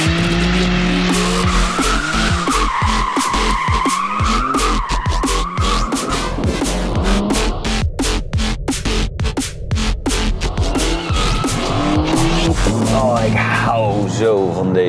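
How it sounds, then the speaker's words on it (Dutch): BMW M3 Touring drifting around a track, with loud continuous tyre squeal and screeching over a roaring, revving engine that rises and falls through the slide. "Voor de vorm zullen we nog één rondje driften dan."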